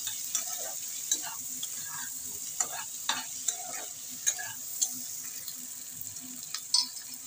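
Vegetables frying in a pan with salt and turmeric, a soft sizzle beneath a series of distinct spatula scrapes and clacks against the pan, spaced irregularly, no talking.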